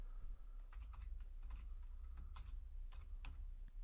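Rapid keystrokes on a computer keyboard while Python code is typed, a steady run of close, crisp clicks with brief pauses between bursts, no voices.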